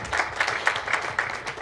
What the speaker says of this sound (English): Join me in welcoming Rakesh Anand Bakshi with a big round of applause